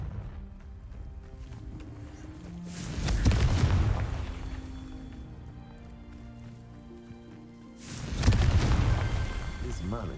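Two Confringo blasting-spell explosions in Hogwarts Legacy, each a loud booming burst that swells and then fades, spaced about five seconds apart over a quieter, humming game background.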